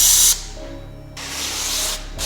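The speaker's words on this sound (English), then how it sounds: "Now I'm going to flush the front and back." Two quick bursts of a spray bottle misting water onto car window glass during window tinting on a 2019 Jeep Cherokee, close and crisp, separated by a brief quiet pause, then a short final spritz.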